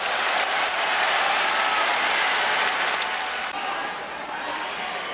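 A boxing crowd at Rainbow Hall roars and applauds at the end of the eleventh round of a title fight, a dense, steady wash of cheering that stays loud throughout and eases slightly near the end.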